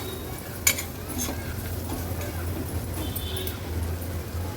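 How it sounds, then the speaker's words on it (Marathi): Turmeric and Agri-Koli masala sautéing in oil for a drumstick-pod (shevga) curry, a low steady sizzle with a single sharp clink of a spoon near the start and faint stirring scrapes throughout. "हळद आणि मसाला असा तेलावर परतून घ्यायचा"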